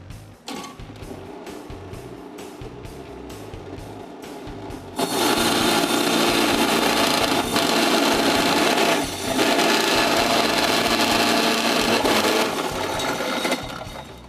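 A mixer machine grinds frozen streusel dough, starting with a lighter rattling and ticking before surging into a loud, dense, steady churning roar that briefly dips once and continues to the end.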